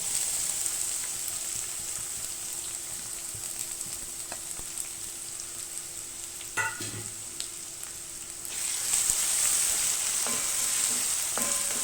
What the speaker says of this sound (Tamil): இந்த பூண்டு வந்து நல்ல கலர் மாறணும் நல்லா பொரியணும்